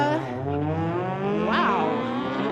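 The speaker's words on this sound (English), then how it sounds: "On the pit side, we've got Carl Sanga in his 2011 Infiniti. He's going against the black Honda." At a street-legal drag race, a 2011 Infiniti and a black Honda launch and accelerate hard, loud rising engine whines with layered harmonics climbing steadily, close and sustained.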